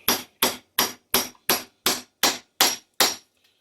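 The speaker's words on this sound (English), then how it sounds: "Take a hammer and tap it down till it bottoms out," Nine sharp metallic hammer taps in an even rhythm driving a new bearing onto the pinion of a Honda Rancher 420 rear differential, each ringing briefly, close up with silence between strikes.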